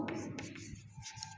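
A marker or chalk moves across a board in short scratchy strokes, quiet and close, several quick marks in a row.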